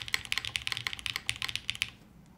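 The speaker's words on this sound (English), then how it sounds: "Spacebar sounds a little more dense." Mechanical keyboard with top-mount construction being typed on, a rapid run of close, crisp clicks and denser spacebar thocks, fairly quiet and alone before trailing off.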